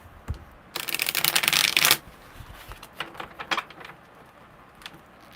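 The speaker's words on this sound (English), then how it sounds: "one more good shuffle." A brisk riffle of tarot cards being shuffled, one dense burst of flapping and clicking, followed by a few softer taps as the deck is squared.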